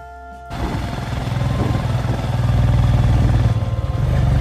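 A motorcycle ridden on a mountain road from Darcha to Baralacha La, its engine droning loud and close with a steady throbbing rumble that builds slightly, after a brief quiet start.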